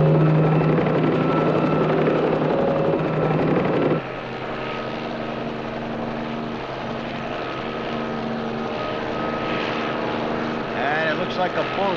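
Police helicopter circling low overhead, its rotor drone loud and steady throughout with a slight drop in level partway, while voices talk over radio beneath it.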